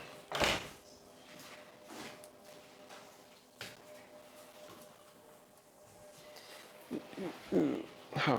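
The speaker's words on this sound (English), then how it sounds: "Let's close this door." An indoor door thuds shut with a sharp knock near the start, followed by quieter shuffles and a second clatter of bumps near the end, with a voice talking faintly in between.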